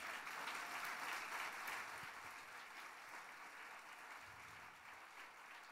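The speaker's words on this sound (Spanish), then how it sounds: "Denle un aplauso al Señor." A church congregation applauds, a dense, even wash of clapping that holds steady and fades only slightly, heard somewhat distant and alone without speech.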